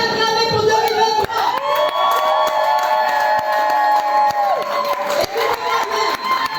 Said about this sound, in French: Est-ce qu'on peut acclamer pour 2023?